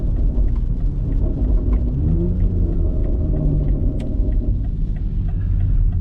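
A BMW X3M fitted with a loud aftermarket exhaust rumbles at idle, a deep continuous low burble with a brief rise in pitch near the middle, close and steady throughout.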